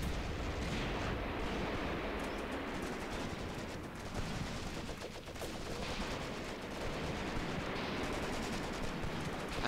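Sustained artillery and gunfire in the wartime game Graviteam: Mius Front, a steady dense barrage of crackling shots and rumbling blasts, fairly faint and continuous throughout.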